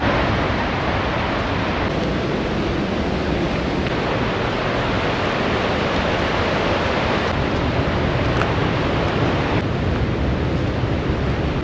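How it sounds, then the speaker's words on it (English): A waterfall at the Grand Canyon of the Yellowstone roars as a loud, dense, unbroken rush of water, sounding close and steady with no voices. "The soothing sound of waterfall."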